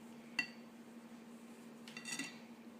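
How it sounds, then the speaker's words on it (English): A metal utensil clinks faintly against a bowl twice while butter and flour are mixed by hand for Assyrian kadeh pastry, under a steady low hum. "Look, just mix it with butter with flour."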